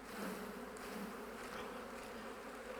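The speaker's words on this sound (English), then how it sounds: "I'm getting the bees a little fired up right now." A dense, steady buzz of many honeybees shaken from a hive frame, swarming close by and humming continuously without pause.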